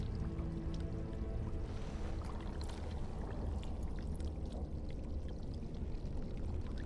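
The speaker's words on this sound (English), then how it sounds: "Fill the jug with water." Water pouring steadily into a jug in the video game Dragon Age Origins, a continuous even splashing and trickling wash that runs for the whole stretch with no pauses and no voices.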